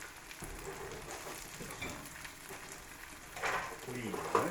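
Cheese burrito crisping in a hot pan, giving a steady soft sizzle throughout that swells louder near the end, with some faint background talk.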